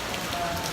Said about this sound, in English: I know it's raining really hard.